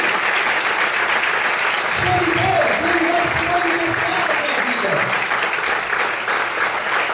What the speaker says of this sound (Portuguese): Todos podem aplaudir o Senhor nessa noite